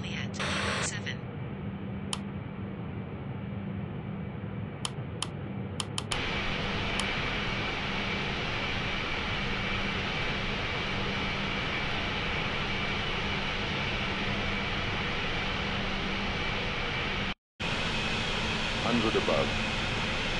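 Airbus A380 jet engines spooling up for takeoff in Real Flight Simulator, a steady loud roar and hum that holds nearly unchanged throughout, with a brief dropout near the end.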